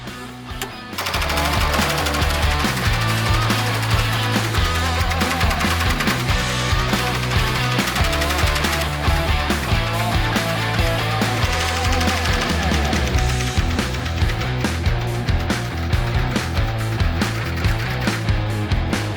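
An embroidery machine stitches a flower design onto a jacket, a loud, rapid, rhythmic mechanical hammering that runs continuously and close after a brief start.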